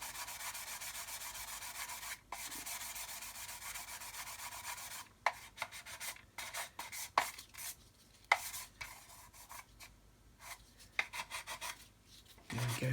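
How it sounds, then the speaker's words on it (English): A sanding stick scrubs the glued seam of a Big Bad Buff scale model kit in close, rasping strokes: steady rubbing at first, then short irregular bursts with brief pauses between passes. "and then we can carry on with our sanding"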